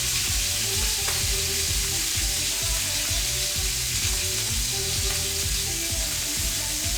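Tri-tip steak searing in a hot pan, a loud, dense, continuous sizzle and crackle held close and steady throughout, with no one talking.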